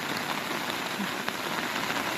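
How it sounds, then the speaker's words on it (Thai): Rain falls steadily over rice fields, a dense even hiss of drops pattering on water and ground, with no voices. "เอาบรรยากาศฝนตกลิ้นเนาะพี่น้อง"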